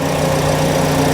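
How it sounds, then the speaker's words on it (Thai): A 2020 Toyota Sienta 1.5 V with a dual VVT-i engine idles, a steady, close, even hum with a low tonal drone and no voices. "คันนี้เสียงเครื่องยนต์นะฮะ"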